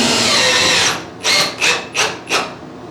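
A power drill drives a screw into warped wood, a sustained high whine that breaks into four short, loud bursts of whirring as the screw is pushed in stages.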